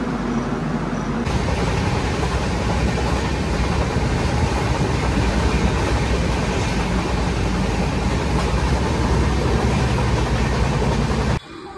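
A long-distance passenger train runs on rails, heard from inside the coach as a loud, steady rumble and roar with faint rhythmic clatter, cutting off abruptly at the end.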